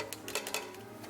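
A metal pot is set onto a kitchen stove, giving a quick cluster of light clanks and clicks over faint steady background hum.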